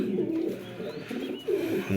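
A male Afshan Gizel Spanish Pouter pigeon coos in close, repeated rolling bursts, with a short pause partway through before the cooing resumes loudly.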